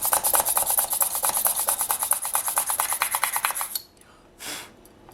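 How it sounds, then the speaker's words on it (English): A hand pin drill twists into a polymer clay piece for a faux agate collar, making a close, steady rhythmic scraping rasp of about three and a half seconds. It stops abruptly, followed by one soft brief rustle. "So I've just got this pin drill. I'm just going to be drilling on each of these sides."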